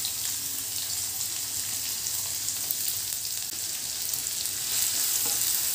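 Onion and green chili sauté in hot oil, giving a continuous, close crackling sizzle with a few faint stirring scrapes and no talking.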